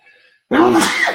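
A single sharp sneeze bursts out close by after a moment of near silence.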